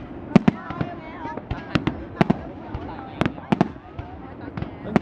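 Festival fireworks at the Dalat Flower Festival 2015, launched from both sides, crack in a rapid irregular string of sharp bursts over a steady crowd murmur, with people chatting nearby.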